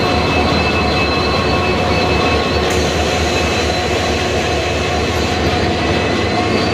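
The Ernakulam–Velankanni express train, hauled by an EMD diesel locomotive, at a station: a loud, steady, unbroken rumble of engine and wheels with a faint metallic squeal partway through, and no voices.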